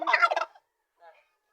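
A turkey on a small farm lets out a loud, rapid gobble at close range, followed after a pause by a fainter, shorter second call.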